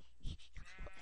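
Sheep bleating in a video game, a few short close calls within about a second, standing out clearly over a low background.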